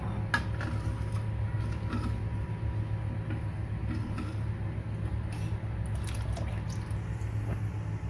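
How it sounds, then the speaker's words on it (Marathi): Water pours into a pot of thin kadhi in a kitchen, a steady liquid rush with faint clinks and creaks throughout, no voices. "आपल्याला जेवढं पाणी पाहिजे पातळ कढी तेवढं आपण पाणी टाकू"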